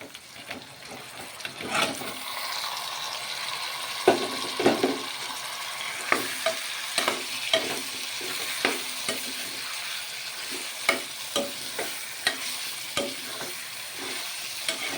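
Mutton cooking in a little oil with slit green chillies for a curry, a continuous wet sizzle with repeated clacks and scrapes of a spoon stirring against the pot, close and fairly loud.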